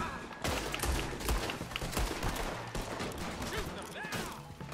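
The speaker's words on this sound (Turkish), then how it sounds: "Çatışma çıktı lan." A firefight in Red Dead Redemption 2, with dense, overlapping gunshots and scattered thuds going on continuously over several seconds, shots landing close and farther off.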